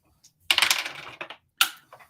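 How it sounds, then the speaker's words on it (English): Dice falling off a desk: a burst of sharp clattering clicks as they hit and tumble, then a few smaller scattered ticks and a final rattle, close by with no talking. "the dice fell off the desk"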